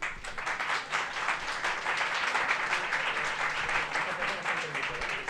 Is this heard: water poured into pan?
no